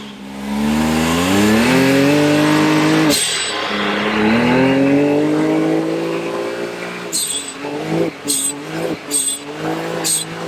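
A Can-Am Maverick X3 engine fitted with an RPM Powersports blow off valve revs up and down with a rising whine, followed by several sharp hissing whooshes from the valve in quick succession, loud and close.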